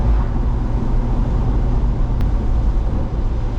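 McLaren MP4/12 race car on a drive, a steady, loud low rumble of engine and road noise that holds evenly throughout with no pauses or gear changes.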